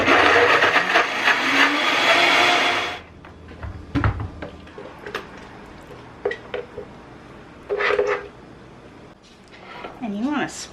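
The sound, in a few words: blender blending pear cobbler topping with honey or maple syrup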